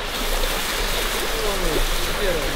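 A flowing creek at an old homestead site gives a steady, even rush of water close by, with a voice faintly audible over it.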